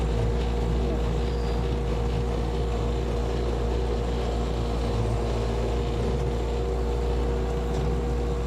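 Tractor running a soil conditioner with its drum spinning, a loud continuous engine drone with a steady low rumble and wind noise on the microphone.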